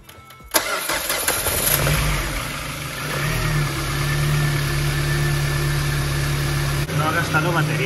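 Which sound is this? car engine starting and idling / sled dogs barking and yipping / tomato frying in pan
car engine starting and idling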